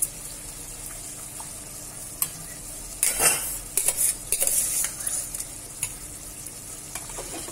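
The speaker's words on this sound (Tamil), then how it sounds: "அரிசியை போட்டுட்டு நல்லா உள்ள கலக்கி விட்டுருங்க" A utensil stirs rice into a pot of boiling water, scraping and clinking, with a cluster of brisk stirring sounds in the middle and quieter clinks around it.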